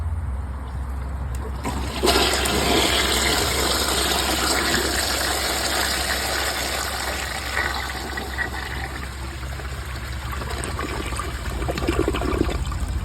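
A 2000s Mansfield Alto toilet with a mid-size tank flushes during a performance test with a washcloth and bag in the bowl, giving a loud, close rush of water that starts suddenly and keeps draining for about ten seconds.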